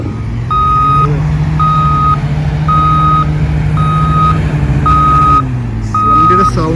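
A truck reverses near the NH66 underpass at Randathani in Malappuram district, its backup alarm giving six evenly spaced loud beeps over a steady low idling engine; engine tone shifts near the end.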